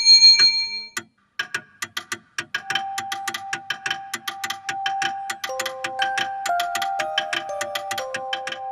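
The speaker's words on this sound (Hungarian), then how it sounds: "ki is próbálom ezt a csengőt" A bell rung by hand at a steampunk museum strikes a fast run of bright metallic chimes, starting with a few separate rings and then speeding into a steady ringing rhythm whose pitches step downward, close and clear.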